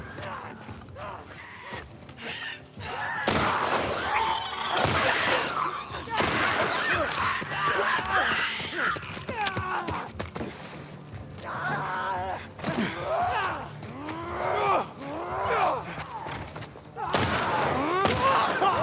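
A few sharp, isolated gunshot bangs ring out in The Last of Us, spaced apart amid softer shuffling and creaking, with a person talking throughout.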